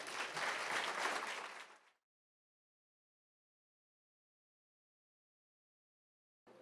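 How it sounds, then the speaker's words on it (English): Audience at a nursing luncheon applauding: a burst of dense clapping from a room of people for about two seconds, fading quickly into silence, with a brief return of sound at the very end. "Let's give him another round of applause"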